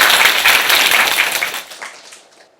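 Audience applause in a television studio during an EBS lecture broadcast, a dense wash of clapping that starts loud and fades out over about two and a half seconds.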